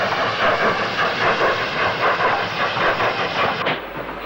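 A steam locomotive rolls into a platform at Paddington close by, its loud continuous hiss of steam pulsing with a steady chuffing rhythm before easing off at the end.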